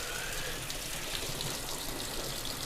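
Water gushes steadily into a Zeny portable clothes washer in an old cabin house, a constant close rushing fill with faint splashy flutter and no voices.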